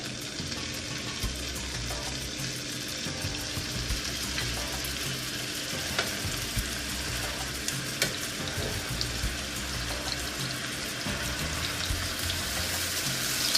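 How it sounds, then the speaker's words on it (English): Shrimp frying in organic Persian lime-infused olive oil in a pan, a dense, constant crackling sizzle that holds loud and close, with small pops and scattered crackles throughout. "Now I'm just going to start to carefully add my shrimp."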